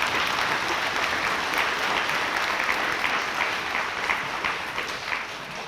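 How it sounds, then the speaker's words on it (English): Dense, sustained applause fills a hall at the Beal School dedication ceremony, with many hands clapping evenly for several seconds before easing slightly toward the end. "So if we can give a round of applause to the MSBA."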